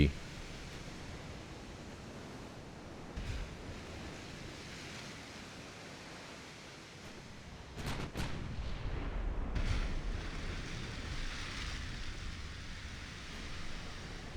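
Enemy ship guns fire back in a naval battle game, their shells striking and ricocheting off an armor belt, heard as a few distant booms and sharp cracks over a low rushing sea-like noise, with speech at times.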